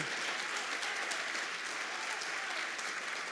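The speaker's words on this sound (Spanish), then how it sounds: "Dale un aplauso a Dios porque eso es poderoso." A church congregation breaks into sustained, even applause during a sermon, a dense wash of clapping from many hands that holds at one level throughout.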